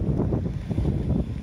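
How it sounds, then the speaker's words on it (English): Steady wind buffeting the microphone outdoors in cold weather at Hakone, Japan, a low rumbling roar that gusts throughout without pause. "It's so windy. It's very cold out here."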